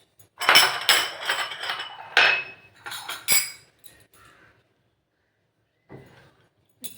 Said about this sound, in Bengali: দিয়ে এবার আমি এটা ভালো করে মিক্স করে নিচ্ছি। আর দেখো কিছুটা আইস কিউব আমি দিয়ে দিলাম।